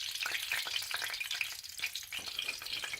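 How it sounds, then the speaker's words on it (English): Food shallow frying in a small amount of oil, a steady close crackling sizzle with dense spitting pops running throughout, no voices. "So just in oil, I'm just sort of shallow frying it"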